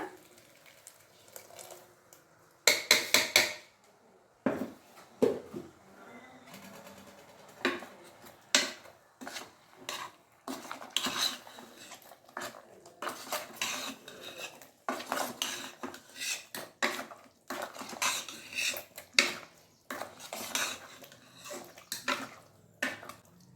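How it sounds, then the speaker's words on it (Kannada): Ground masala being stirred into double-bean sambar in a pot, with a steady run of close, sharp metallic scrapes and clinks of a spoon against the vessel, some in quick bursts and others spaced apart. "ಈಗ ನಾವು ರುಬ್ಬಿ ಎತ್ತಿಟ್ಕೊಂಡಿರೋ ಅಂತ ಮಸಾಲೆನ ಹಾಕ್ಬಿಡೋಣ"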